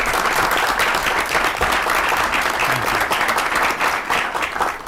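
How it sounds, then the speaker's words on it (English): An audience applauds steadily, a dense wash of many hands clapping at a constant level from start to finish. "Let's give these people a round of applause."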